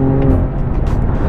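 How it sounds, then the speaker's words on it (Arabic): A loud, close engine roar from a BMW M5 or M2 Competition with an upgraded exhaust, drifting on a race track, holding a steady high-revving drone for a brief moment. "واكيد عم تسمعوا صوت السيارة، وهذا الشيء بيعود للعادم يلي زودت فيه لحتى يتأقلم مع المحرك الكبير"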